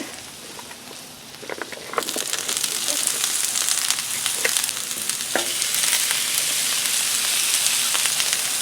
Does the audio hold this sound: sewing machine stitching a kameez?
no